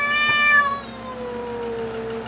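An unhappy cat meows once, loud and close, with a long, strained, harmonic cry, over a steady hum from a fan running in a tiny house under construction.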